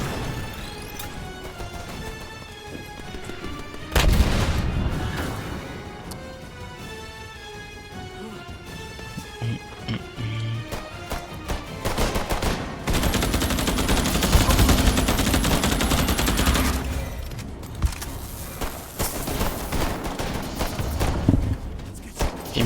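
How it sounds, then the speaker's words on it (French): Enemy gunfire rattles in the shooter game Earthfall, coming in bursts of rapid shots over game music. Heavier stretches of automatic fire pile up midway and toward the end, with a voice briefly audible. "Il me tire dessus évidemment."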